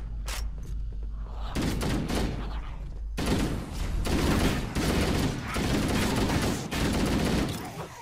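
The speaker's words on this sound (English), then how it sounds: "Weapons fire?" Bursts of gunfire from Halo: Combat Evolved crackle in dense, sustained volleys with heavy thumps, loud and close, broken by a short lull before firing resumes.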